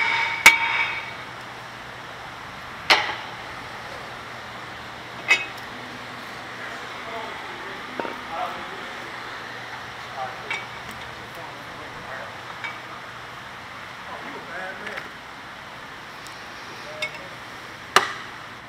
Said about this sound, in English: next you want to hammer your rotor off because they're always a little bit rusted on